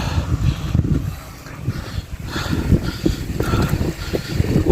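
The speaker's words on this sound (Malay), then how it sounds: "Angin." Wind buffets the microphone at Panalaban on the Mount Kinabalu trail, as a steady, rough rumble that swells and eases throughout, loud and close, with no voices.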